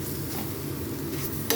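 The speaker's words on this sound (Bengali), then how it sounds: "মশলার মধ্যে দেওয়ার পরে জল ছেড়ে যায়, তো ভালো করে কষাতে হয় চাপা দিয়ে দিয়ে" Mushrooms fry in spice masala in a pan while being pressed and stirred, giving a quiet, steady low sizzle with a faint scrape near the end.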